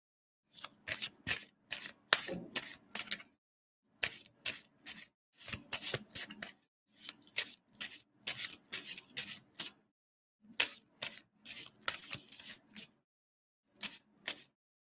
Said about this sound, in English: someone actually stopped shuffling the cards